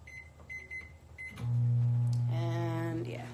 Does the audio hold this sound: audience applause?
no